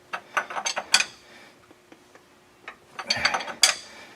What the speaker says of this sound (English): when you go to tighten those up, it's a 1-inch wrench, and get them good and snug